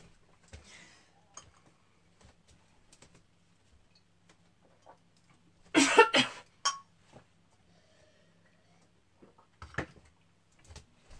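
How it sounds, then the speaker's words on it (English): A single cough bursts out close and loud at about the middle of an otherwise quiet indoor moment, with a few soft ticks and small handling sounds before it and a brief throat noise near the end. "I've got a little cough, so I'm going to have a sip of water."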